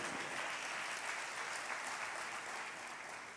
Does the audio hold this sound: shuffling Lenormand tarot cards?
no